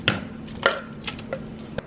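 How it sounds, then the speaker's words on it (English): A knife chops through hot Italian sausage on a cutting board, a handful of sharp, separate board knocks at an uneven pace, close and clear with no talk. "I'm gonna start slicing up the sausage."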